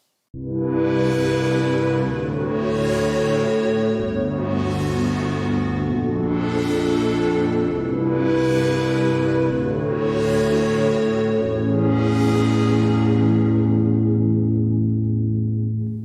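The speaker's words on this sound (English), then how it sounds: "let's add some echo and some depth" A sustained Pro Tools PlayCell synthesizer pad plays slow swelling chords, each note blooming and trailing into echoing repeats and a wide reverb wash.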